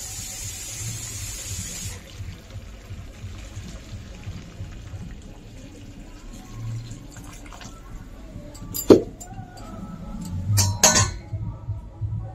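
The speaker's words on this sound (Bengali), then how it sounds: "গরম জলটা আমি দিয়ে দেবো।" Hot water poured into a mutton curry cooked with whole spices, a steady watery wash with a few sharp clinks of a vessel near the end.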